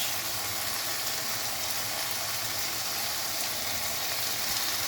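Chopped cabbage, carrot and capsicum fry in a hot pan for chicken macaroni, a steady, continuous sizzle of moderate loudness with no pauses and no talking.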